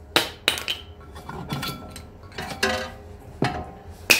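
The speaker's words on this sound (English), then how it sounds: "pop your brake pads out" Rear brake pads are worked out of the caliper with a series of sharp metallic clicks and clanks, irregular and close, with no talk.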